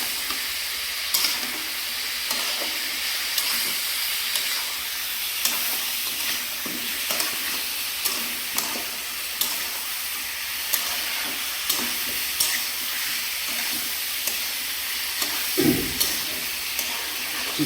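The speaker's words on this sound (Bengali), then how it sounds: "চিকেন আর আলুটা একটু ভাজা ভাজা মতো হয়ে গেছে" Chicken and potato pieces frying in a pan with a little salt, a bright continuous sizzle and hiss broken by frequent scraping stirs, one louder clatter near the end, close and steady throughout.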